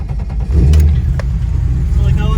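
A highly modified BMW E30's engine revs loudly up close, a deep throaty burst that settles into a rough, rumbling idle, with voices briefly over it.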